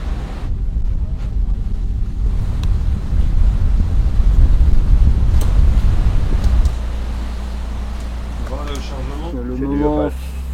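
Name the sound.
racing sailboat pounding through rough sea, wind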